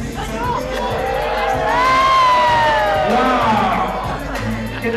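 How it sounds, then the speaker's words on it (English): A crowd at a live contestant show cheers, whoops and shouts loudly, with a big swell of voices building to a peak midway and then settling into hubbub with some talk. "Make some noise if you were feeling Bethany"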